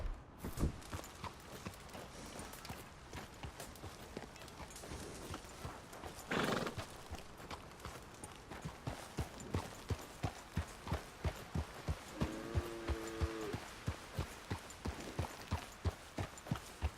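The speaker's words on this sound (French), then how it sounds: "je suis venu ici en galopant et maintenant pour sortir mon cheval c'est la galère" A horse in the video game Red Dead Redemption 2 clip-clops with steady, regular hoofbeats that speed up over time, broken by a brief snort and a short neigh, fairly quiet and close.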